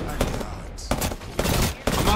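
Rapid bursts of video-game gunfire in a competitive team shooter match, several loud cracking volleys spaced across a couple of seconds with a dense, continuous battle din between them.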